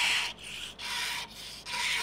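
A stone cornice is worked by hand, giving three long, steady scraping strokes of a rasp or abrasive on stone, each with a short pause between. The sound is close and moderately loud, and no one speaks.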